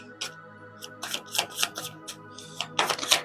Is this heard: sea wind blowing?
no